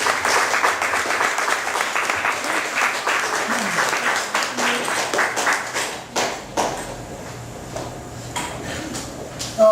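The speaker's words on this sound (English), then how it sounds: "Ladies and gentlemen, big round of applause for Rich McClellan." A comedy show audience applauds as a performer is welcomed onstage, the dense clapping thinning into scattered claps and a few isolated sharp ones toward the end, with some voices mixed in.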